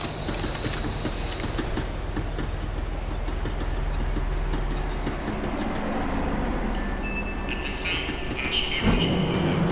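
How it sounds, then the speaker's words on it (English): In the game Max Payne 3, a tram slows down with a steady rumbling roll and high, sustained wheel squeals that grow harsher toward the end, loud and continuous throughout. "The tram was slowing down, and I'd only just gotten on board."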